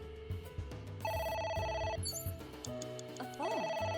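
A telephone ringing in the video game AI The Somnium Files, bursts of bright trilling rings repeating over layered background game music.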